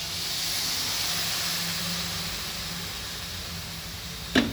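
A steady, loud hiss as a little hot water goes into a pot of cauliflower and potato curry, sustained for several seconds and ending in a couple of sharp clicks near the close.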